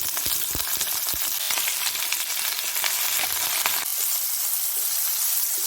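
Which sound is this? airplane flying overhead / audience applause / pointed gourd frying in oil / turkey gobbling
pointed gourd frying in oil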